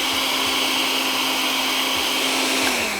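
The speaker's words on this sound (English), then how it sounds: "the better the blender, the better the mix, but we're gonna make it work." A home blender with a small propeller blade whirs steadily at high speed through frozen slushy ingredients, a loud continuous motor whine with a slight drop in pitch near the end.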